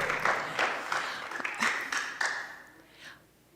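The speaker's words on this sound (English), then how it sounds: "Let's give her one more massive round of applause" An audience at a youth community forum on gangs and guns applauds, a modest round of clapping in a few uneven swells that fades out toward the end.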